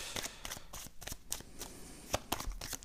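Rapid riffling and slapping of tarot or oracle cards being shuffled and drawn for a reading, a quick series of crisp papery bursts at close range with no talking.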